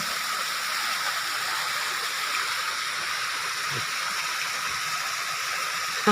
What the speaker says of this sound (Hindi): देखो भैया झरना कितना बढ़िया है, इतना फुहारा से पानी गिर रहा है